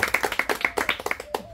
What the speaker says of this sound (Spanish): Mira cómo aplaude.